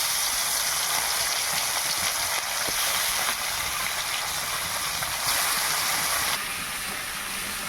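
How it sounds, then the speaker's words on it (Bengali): Pieces of rohu fish fry in well-heated oil in a kadai, giving a steady, bright crackling sizzle that holds at an even level throughout, alone with no talking. "তেলটা খুব ভালোভাবে গরম করে নিয়েছি। এবার মাছগুলোকে ভেজে নেব।"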